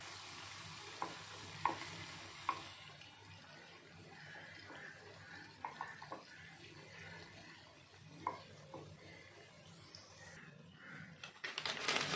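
Karupatti kuzhi paniyaram, palm-jaggery dumplings, fry in a pitted paniyaram pan with a soft, steady sizzle. Occasional light utensil clicks sound over it, and a busier clatter comes near the end.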